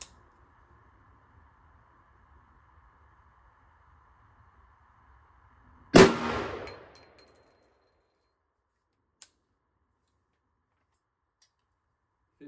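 A single loud gunshot from a .50 Beowulf rifle firing a Barnes 350 grain extreme penetrator into a gel block, a sharp crack with a short decaying tail after a quiet stretch of faint hum.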